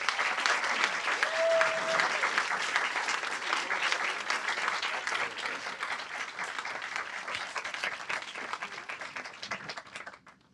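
A book-talk audience applauds to welcome the speakers onto the stage, a dense and sustained wash of clapping from a large crowd that holds steady for about ten seconds before tapering off.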